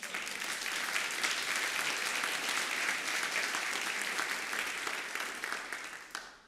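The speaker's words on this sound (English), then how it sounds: "I appreciate the applause" Sustained applause from a large audience at a talk on Canadian philanthropy, dense and steady throughout before tapering off at the end, with no voices over it.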